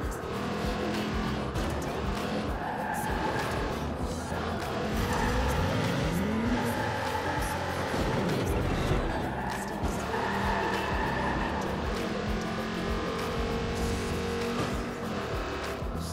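A car in the video game Watch Dogs 2 drives hard, its engine droning steadily with tire squeals and skids rising and falling, music and game sounds mixed underneath.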